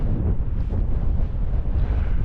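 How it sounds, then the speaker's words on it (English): Steady, loud wind buffeting a microphone outdoors in the Mourne Mountains, a continuous low roar with gusty fluctuations and no voices. "it's windy enough, but we're out"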